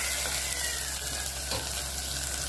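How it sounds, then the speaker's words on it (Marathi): Vermicelli frying in hot oil for a Maharashtrian dish, giving a steady, close, continuous sizzle with faint stirring scrapes and no talk. "तर आता यामध्ये आपण शेवया टाकून घेणार आहोत आणि तेलावर थोडेसे शिजवून घेणार आहोत।"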